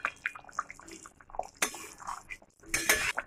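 A spoon clinks and scrapes in a pan while fish curry with curry leaves and torn green chillies is mixed, irregular close clatters with brief gaps.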